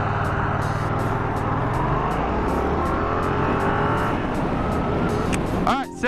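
A Yamaha MT-07 (FZ-07) motorcycle with its stock exhaust pulls away, the engine droning loud and close, then a gear change and a rising rev near the end.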